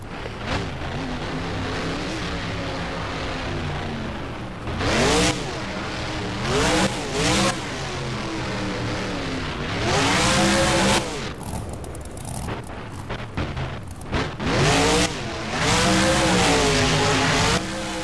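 The Jurassic Attack monster truck in BeamNG freestyle: a loud engine revving and surging repeatedly, rising and falling pitch with bursts of acceleration as it launches, bounces and rolls.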